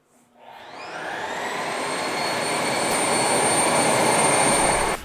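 A Eureka E20 Plus robot vacuum's self-emptying dock starts dust collection with a rising whoosh, then holds a loud, steady, high-pitched suction roar close by.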